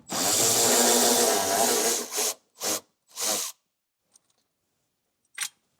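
A 10mm bolt holding a cargo hook on a 2025 Buick is loosened with a ratchet: one long grinding whir followed by three short bursts, then a couple of faint clicks.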